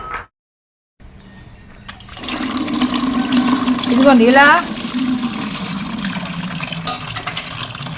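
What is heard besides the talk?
water poured to dilute rice starch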